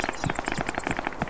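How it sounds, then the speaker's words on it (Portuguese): Distant gunfire in the video game Arma 3 during a battle royale on Tanoa, a fast, faint crackle of repeated shots pattering steadily like firecrackers far off, with no talk. "agora eu tô escutando tiros"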